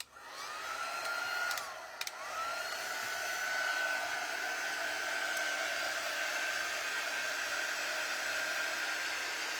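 A heat tool blows steadily and loudly to dry chalk paint on a stencilled DIY sign, with a brief dip near the start and then a constant whirring hiss through to the end.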